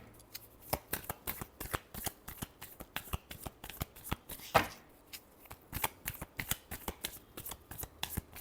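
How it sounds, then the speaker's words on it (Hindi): Tarot cards shuffled close up in a steady rhythm of crisp papery riffles and taps, with one louder slap midway and no talking. "last shuffle"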